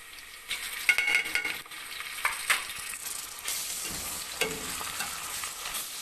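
Ginger garlic paste sizzles and spits in a hot pan while a spoon scrapes and stirs through it, with bursts of frying noise rising and falling.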